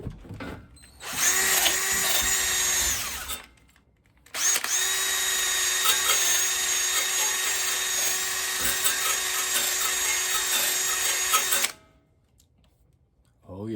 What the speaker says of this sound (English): Or grab a drill and a wire brush, maybe some WD-40, see what happens.